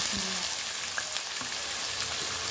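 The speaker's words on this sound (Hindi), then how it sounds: "अच्छे से इन्हें फ्राई करना है" Chopped onions frying in hot oil with bay leaves for a chicken and potato salan, a steady close hiss and crackle of sizzling throughout, fairly quiet.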